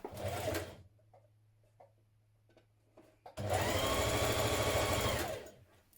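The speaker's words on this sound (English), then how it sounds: "I'm going to stitch that 1 centimetre seam just there." A sewing machine stitches a 1 cm seam joining neck facings for a tunic: a short burst at the start, a quiet pause with a low hum, then a longer, steady run of fast whirring stitches that stops near the end.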